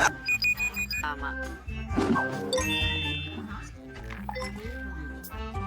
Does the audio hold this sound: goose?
no